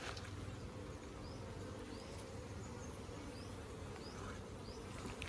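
Honey bees buzz steadily at a beehive being smoked, a dense continuous hum with occasional higher passes of individual bees, close and constant throughout with no talk.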